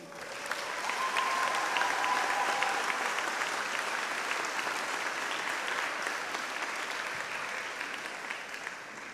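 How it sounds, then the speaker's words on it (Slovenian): Sustained audience applause at an award ceremony, steady dense clapping from a hall crowd lasting throughout, fading slightly toward the end. "Aplavz, prosim."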